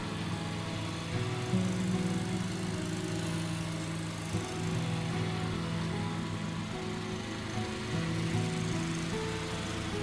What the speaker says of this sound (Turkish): Futbolcuların rahat koşmaları için çimi biçiyor.